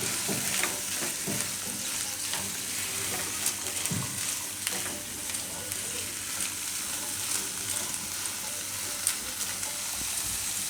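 Corn, peas, butter and chaat masala are stirred together in a hot pan, a steady close sizzle with scraping spoon strokes and small pops running continuously.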